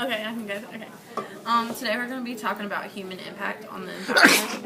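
A single sharp sneeze bursts out near the end, right after steady indoor speech from someone presenting an earth science lesson on human impact on the environment.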